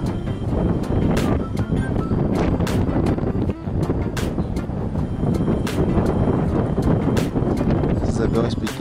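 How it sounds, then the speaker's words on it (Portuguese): Strong, cold wind gusts roar steadily across an open airport, a dense broadband rush buffeting the microphone throughout with brief dips and surges. "tá ventando muito hoje"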